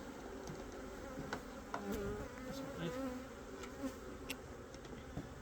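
Around 300 honey bees buzz inside a jar being rolled during a Varroa mite sugar shake test, a faint continuous droning hum with small bumps and taps as the jar moves.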